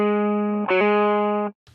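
A guitar played through an STL AmpHub Fender Deluxe amp model rings out in one short, clean sustained chord with a brief restrike, then stops abruptly.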